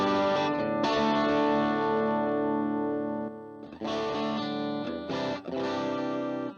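An electric guitar played through a Line 6 Helix with compressors engaged gives heavily effected, chorused and distorted chords, with a long sustained strum followed by several short choppy bursts, loud and up close.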